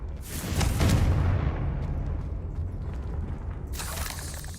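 A Confringo fire spell exploding in the Hogwarts Legacy video game, a loud, rumbling boom that swells and then fades into a lingering crackle, followed by a softer burst at the end.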